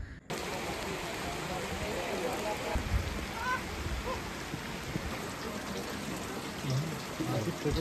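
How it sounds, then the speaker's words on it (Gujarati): Light, slow rain pattering at a hilltop sunrise point in Saputara, a soft continuous hiss with scattered drops, steady and fairly faint, with a few brief indistinct sounds. "ધીમો ધીમો વરસાદ આવી ગયો છે"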